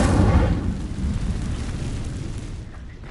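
A deep, booming whoosh bursts out at once, then rumbles and fades over a few seconds as the Incendio fire spell is cast in the video game Hogwarts Legacy. No voices.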